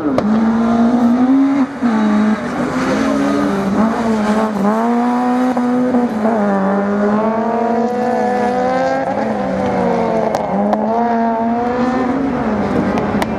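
F2000 race cars speed around the Lessay slalom circuit, engines screaming loud and close with rising and falling revs as they accelerate and shift, one continuous stretch of hard driving.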